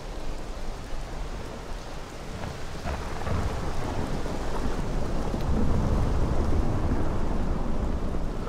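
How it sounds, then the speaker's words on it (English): Thunderstorm in the video game Morrowind: a dense, steady wash of heavy rain with deep rolling thunder swelling and rumbling throughout, loud and continuous with no talking. "Listen to that thunder."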